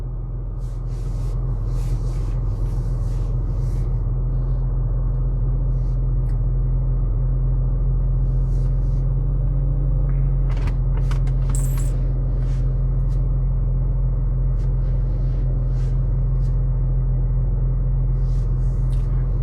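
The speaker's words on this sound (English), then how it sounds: "The car is running." A 2007 BMW X5 E70 idling with a steady, low engine rumble that holds evenly and close for the whole stretch, with a few faint clicks and a brief higher whine near the middle.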